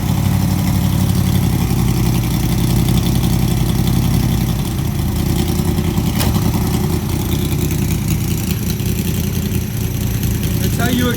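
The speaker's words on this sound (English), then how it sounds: "That's how you expect your Cobra to sound." A fuel-injected Factory Five Racing replica of a 1965 Shelby Cobra MK II, its motor only 3,700 miles since being built, idles loud and close with a steady, thick rumble throughout.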